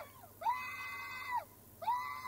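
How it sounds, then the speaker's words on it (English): A person screams twice, long shrill sustained cries with a sharp rise and fall at each end, loud and close against a quiet background. "Who the hell was that screaming?"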